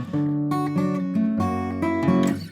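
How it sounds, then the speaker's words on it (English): A blues guitar plays short walk-up and walk-down chord runs in a lesson on a song in F, with clear, close plucked chords stepping through a brief phrase. "add little walk up and walk downs that sound like this"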